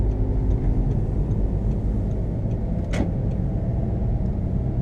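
A tuned car pulls away from a stop, its engine a steady, loud rumble from inside the cabin throughout, with a brief clicking noise about midway.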